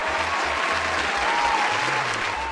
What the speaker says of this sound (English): So give her a round of applause, Zima, for that support.